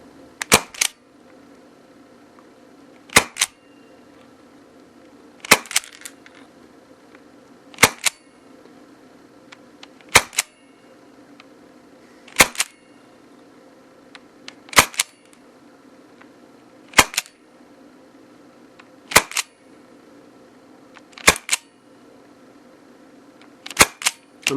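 Ten sharp gas shots from an ASG Zastava R357 airsoft pistol firing BBs, evenly spaced about every two to three seconds, loud and close, each with a brief metallic snap, over a low steady background hum.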